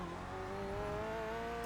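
Corvette C8.R race car engine in the iRacing sim, a steady loud drone whose tone climbs gradually as it pulls, continuous and alone without talk.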